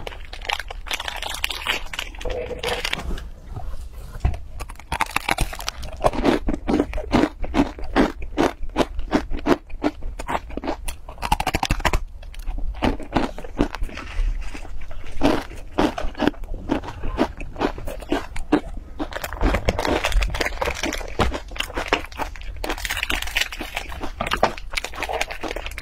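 Corn crisp snacks crunched and chewed close to the microphone, a dense run of crisp bites and crackling chews with a few brief pauses, loud and continuous with no talking.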